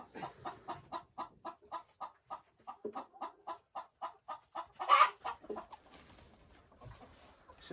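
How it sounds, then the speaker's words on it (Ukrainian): A hen laying an egg clucks in a steady run of sharp, evenly spaced calls, ending in a louder squawk, then the clucking trails off into softer sounds. "курочка несеться"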